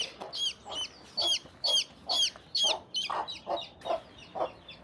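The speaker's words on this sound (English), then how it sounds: "Wonder if I can catch a baby chicken. I accidentally chased it away from its mom." Chickens in a rural hiking area in Georgia give repeated clucks and chirpy calls, about ten bursts in a steady rhythm, close and moderately loud with no talking.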